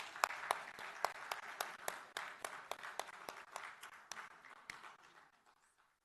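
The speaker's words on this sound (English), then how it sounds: "Please give a round of applause to all our speakers." An audience at a summit and awards event claps in a fairly sparse, rhythmic round of applause that fades out over several seconds, heard from a distance with no talk.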